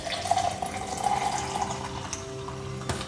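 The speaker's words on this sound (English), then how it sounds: "and then you pour your water" Water is poured into a mug of coffee mix with vanilla and cinnamon powder, a faint steady trickling stream lasting a few seconds with no talk.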